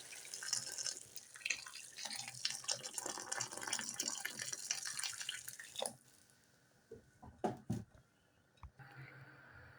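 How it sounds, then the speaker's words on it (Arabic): Boiling water poured over sautéed chicken in a pot, a rushing, splashing pour that sizzles for several seconds, then stops and leaves a few scattered clinks and splashes. "انزل بالميه المغليه"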